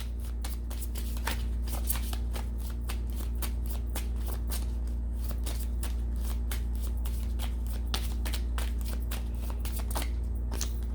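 Tarot cards being shuffled by hand close up, a rapid stream of crisp riffling flicks repeating throughout over a steady low hum, with no talking.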